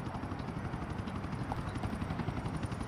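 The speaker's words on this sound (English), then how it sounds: "The chopper." Helicopter in Grand Theft Auto 4, a steady loud rotor thump and engine whine filling the scene without pause, close and continuous with no speech over it.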